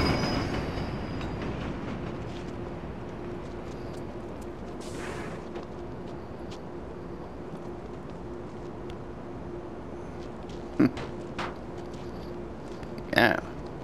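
A subway train in The Warriors video game rolling along with a low steady rumble and faint rail hum, sharp clanks near the end, under people talking.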